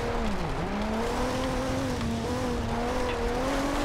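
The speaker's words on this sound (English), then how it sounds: "You start to hear that turbocharger and everything spooling." A 1998 Toyota Supra turbocharged engine in Forza Horizon 2 drones steadily at high revs, its pitch rising and dipping slightly with a faint turbo whine layered on top, loud and continuous throughout.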